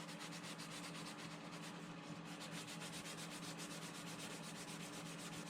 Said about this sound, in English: I'm sanding very lightly here